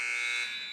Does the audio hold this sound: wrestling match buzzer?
yes